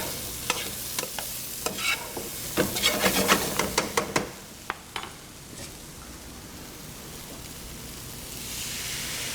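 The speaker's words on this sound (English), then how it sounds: "And here comes our sauce. Just a quick stir." Sauce for General Tso's chicken is stirred briskly in a hot pan, a run of close scraping strokes over a light sizzle during the first half, then only a soft frying hiss.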